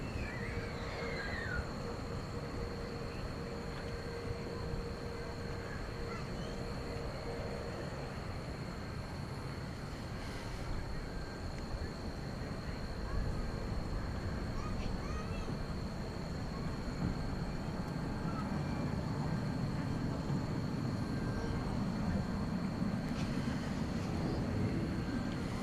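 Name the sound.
Fiji Airways Flight 891 airliner taking off at night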